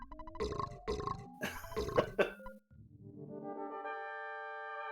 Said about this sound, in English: Gotta love the burping ant.